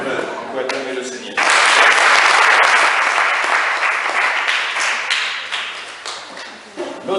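A church congregation applauds the Lord, with a steady burst of clapping that starts suddenly, holds strong for several seconds and then thins out, and a preacher's voice comes and goes around it.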